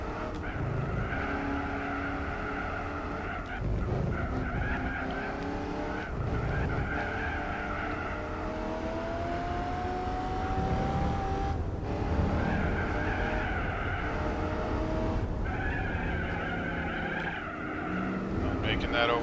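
A 550-horsepower Buick Special resto mod from the SEMA shows races in Gran Turismo 4, its engine droning steadily with tire squeal rising in places, while someone talks over it throughout.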